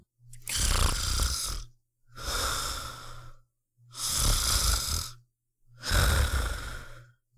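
Four slow, loud snores in a steady rhythm, each a long rasping inhale followed by a short silence, close up with no talking.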